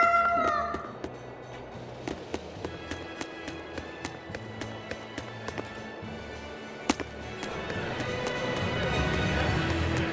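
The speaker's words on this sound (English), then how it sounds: "Oh, cats." Cats meowing in the fantasy RPG Tales of Berseria, short mews amid game ambience and soft rhythmic footstep taps, with a few brief tonal game chimes.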